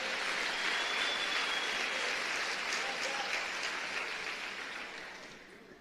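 A church congregation applauds during a sermon, a broad, dense wash of clapping from a large crowd that holds steady and then slowly fades.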